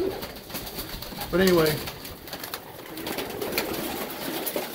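Racing pigeons, including Janssen birds, give a short, clear coo from close by inside a loft, set against a steady hiss of background noise, while someone talks briefly.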